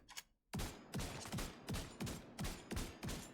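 Rapid weapon fire in a video game: a quick, evenly spaced string of about seven punchy shots, close and loud, following a faint lead-in.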